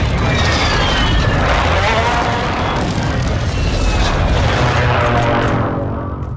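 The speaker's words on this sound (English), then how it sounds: "airstrike on the way" Thundering airstrike explosions and rumbling artillery roll through a Call of Duty Modern Warfare 2 ground war battle, loud and sustained, with a jet-like roar layered over continuous distant blasts.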